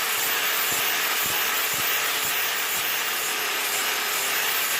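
A grinder with a sanding disc rubs steadily against a scooter engine part, a constant close abrasive hiss with faint rhythmic bumps.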